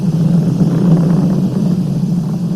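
A Falcon 9 rocket climbing through supersonic flight on the first crewed US launch since the final Space Shuttle mission, a loud steady low rumbling roar that eases slightly toward the end, with no voices.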